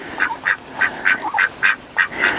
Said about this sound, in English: Look at those sweet ducks.